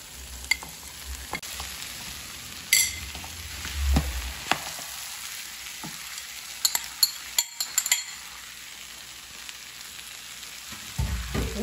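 Baião de dois with rice, beans, carne seca and queijo coalho frying in a pan, giving a steady sizzle under repeated spoon scrapes and occasional clinks against the pan, close and without talk.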